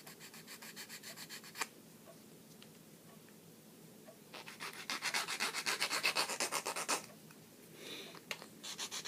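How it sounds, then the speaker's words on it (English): Hand sanding of a plastic model part makes a soft, scratchy back-and-forth rubbing. Light strokes come first, then a burst of rapid, louder rhythmic strokes in the middle, with fainter strokes near the end, close up and without talk. "Kind of sand it down just a little bit."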